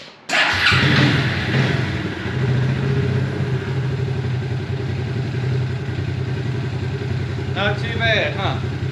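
A Suzuki two-stroke four-wheeler with a worn carburetor cranks and catches abruptly, then settles into a loud, steady buzzing idle indoors, with a voice briefly speaking over it near the end.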